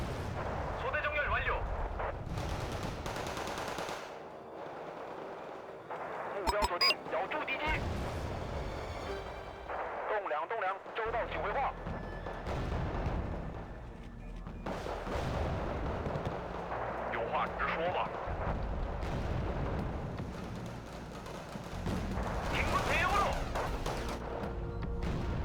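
Artillery barrages and gunfire roll through a Wargame battle, with repeated heavy booms and crackling shots that stay loud and dense throughout, while a voice talks over the combat.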